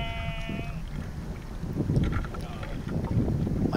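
Wind rushes hard against the microphone over a droning fishing boat at sea at night, with a short bleating-like tone at the start.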